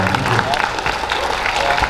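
Convention crowd at a Dragon Ball Z Q&A applauding, a continuous wash of clapping with cheers and murmuring voices layered over it.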